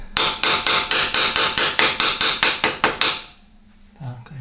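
About a dozen sharp metal-on-metal hammer blows in a steady rhythm, striking an old screwdriver to straighten a KTM 1290 motorcycle chain guide, loud and close, followed by a few quiet handling sounds.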